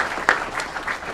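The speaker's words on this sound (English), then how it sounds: "That deserves a round of applause in and of itself." A round of applause at a city council meeting honoring academic state champions, a short burst of clapping from a modest audience in a meeting room.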